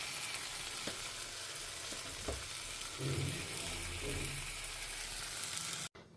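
Chopped ridge gourd sautéing in a pan, a steady soft sizzle with a few light stirring knocks, close and continuous before cutting off abruptly near the end.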